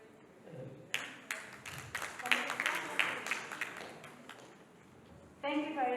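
An audience claps after a talk on storytelling in nonprofit growth by a speaker. The applause starts sharply, swells to a dense patter and fades out, and then a voice begins speaking.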